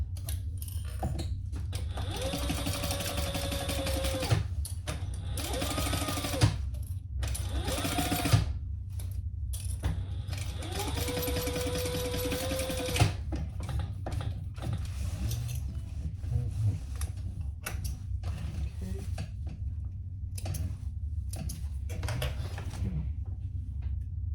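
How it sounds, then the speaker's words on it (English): A sewing machine runs in several bursts of rapid stitching with short pauses between them while sewing a 3/8-inch seam allowance on a festival hip bag, its motor whirring steadily at close range. "we're gonna sew down this right here at a 3/8 seam allowance"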